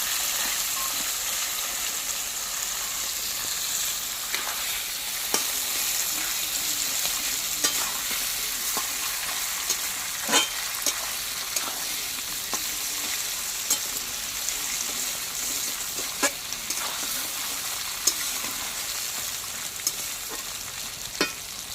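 Katla fish head frying in hot oil while being stirred, giving a steady broadband sizzle with sharp clinks and scrapes at irregular intervals, close and continuous with no voices.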